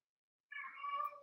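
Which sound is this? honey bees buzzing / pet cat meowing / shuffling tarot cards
pet cat meowing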